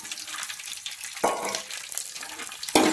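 Garlic sizzling in hot oil with mustard seeds and fenugreek for an oil brinjal gravy, a steady bright crackle with two louder bursts of spluttering as ingredients hit the pan.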